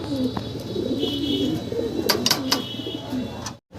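Fancy pigeons cooing in a loft, several soft repeated coos over a low murmur of background noise, with a few sharper chirps and clicks near the end before a brief cutoff.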